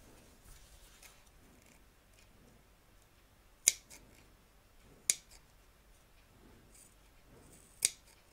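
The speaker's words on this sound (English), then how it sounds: "We're now going to trim up along here close to the stitch line, ready for the join in our next hooping." Sharp scissors snip through fabric close to an embroidery stitch line on a large vintage-style machine embroidery project. Three crisp, separate cuts sound close in a quiet room, spaced a second or more apart.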